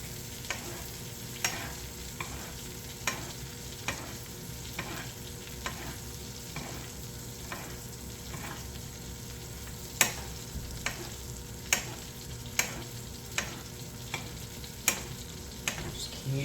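Venison steak frying in a pan while being basted with butter, garlic and rosemary: a steady close sizzle with regular spoon scrapes and clicks against the pan repeating roughly every second, no talking.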